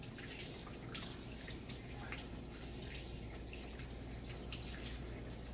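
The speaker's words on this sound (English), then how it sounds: "I always like to rinse my chicken before I cut it up. Just hold it under some water." Raw chicken is rinsed under a running kitchen tap, giving a quiet, continuous splash of water with irregular drips and spatters throughout, with no talking.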